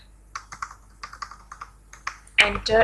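Typing C code on a computer keyboard: a run of light, separate key clicks at an uneven rhythm, close and fairly quiet, then a louder burst of clatter at the end. No one talks.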